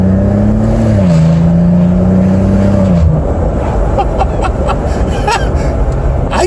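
A 2015 Maserati Ghibli SQ4 engine hums loudly from the cabin, its tone dropping a step as it shifts, then gives way to a rougher rushing road and engine roar while a voice murmurs briefly.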